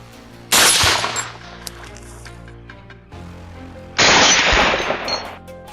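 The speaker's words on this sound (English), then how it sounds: "The sharp, thunderous reports from my rifle and my team's guns signaled the fall of more invaders" Rifle gunfire during a wild boar hunt: two loud, sharp bursts of rapid shots a few seconds apart, each followed by a decaying rumble against quiet outdoor background.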